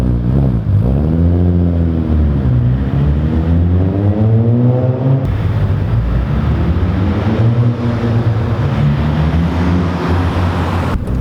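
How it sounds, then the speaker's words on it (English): A 500HP Audi B5 S4 sleeper sedan revs up through two strong pulls, its engine note climbing loud and close before easing back, then building again with no one talking. "the car does not sound bad at all"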